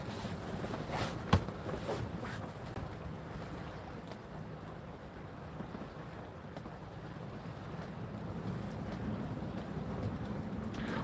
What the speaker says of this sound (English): Winds are picking up yet again.